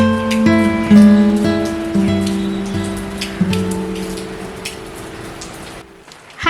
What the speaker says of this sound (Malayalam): രാവിലെ തൊട്ട് നല്ല മഴയാണ് കേട്ടോ